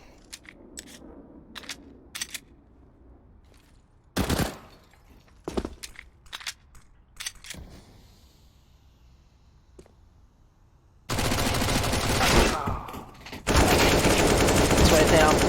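Gunfire in a Counter-Strike match on the Overpass map: a burst of sharp clicks and individual shots spread over several seconds, followed by loud, dense sustained firing or explosion noise near the end.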